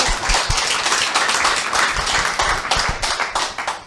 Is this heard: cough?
no